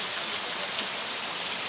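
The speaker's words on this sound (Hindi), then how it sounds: "बहुत ही ज़्यादा बारिश हो रही है।" Heavy rain pours down steadily in a broad, even hiss with no breaks, loud and close and heard alone.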